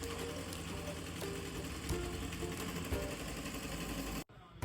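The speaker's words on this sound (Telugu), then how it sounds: "ఇది స్టిచ్చింగ్ కూడా ఎలా చేస్తుందో ఒకసారి చూడండి మీరు మిషన్" A sewing machine stitches an embroidered blouse design, running with a steady, close mechanical whir and rapid ticking, then stopping abruptly just before the end.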